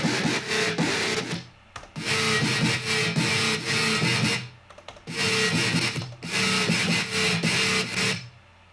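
Tearout synth bass processed with a comb filter, heard as gritty, raspy, metallic buzzing phrases in repeated bursts with brief gaps between them, loud and alone.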